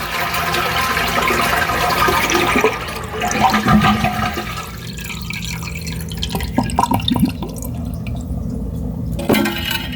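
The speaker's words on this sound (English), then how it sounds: "First thing you wanna do is shut the water off. And then just flush the toilet." A household toilet is flushed after its water supply has been shut off, giving a loud rush of draining water with gurgles and drips that gradually thins out, with no voices.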